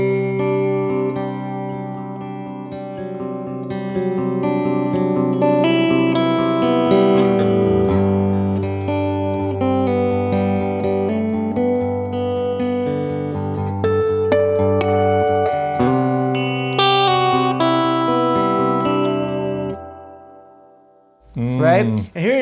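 Electric guitar through a Gibson Falcon amp with long reverb tails, sustained chords and notes ringing out loud and smooth for about twenty seconds before a short spoken moment at the end.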